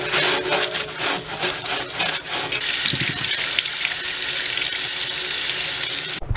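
Water sprays and splashes steadily while a car part from a Honda Prelude is rinsed off, a loud continuous hiss with some clattering early on, no voices.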